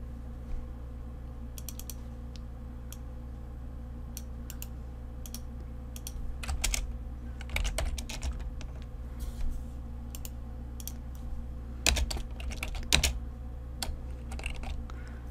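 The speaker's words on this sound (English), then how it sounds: "So let's type cbEmployees." Close clicking taps on a computer keyboard while entering code in Excel VBA, scattered short bursts of keystrokes over a steady low electrical hum, with no talking.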